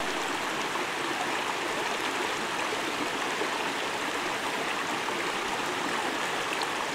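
A river flowing about a kilometre from its source, a steady, dense rush of water that stays even and continuous, with no voices.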